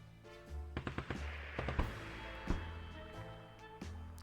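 Gunshot in the video game 60 Seconds: several quick, faint shots and thuds crackle in a short cluster, with a few later scattered pops over a low game background hum.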